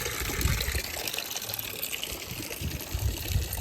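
Water runs and gushes steadily during house cleaning for a festival, a continuous close wash of flowing liquid with faint splashy bursts and no voices.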